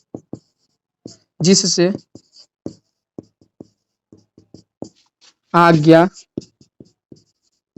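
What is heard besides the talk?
writing on a board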